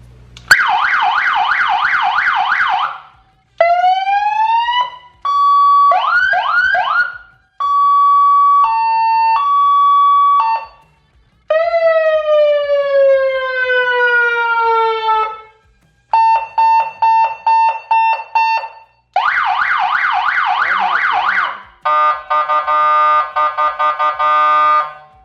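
A police siren fitted to a Harley motorcycle blares very loud and close through a sequence of modes: rapid yelp, rising and falling wails, steady tones, and stuttering horn-like bursts, with brief gaps between patterns.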